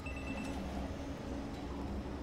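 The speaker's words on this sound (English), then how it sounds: "Oh, phone call, phone call." Phone ringing in the Batman Arkham VR video game, a continuous trilling ring with high bell-like tones, moderately loud over a dense steady game background with no talk.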